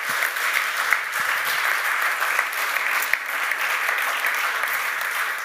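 Steady applause fills the hall at a communications awards ceremony, a full audience clapping evenly for several seconds with no voices over it.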